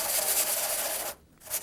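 Resin jewelry rubbed on sandpaper gives a close, steady scratchy rasp for about a second, then a short pause and a fresh stroke starts.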